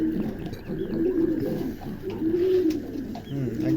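A male king pigeon coos up close in low, rolling, repeated phrases, loud and clear against faint background noise.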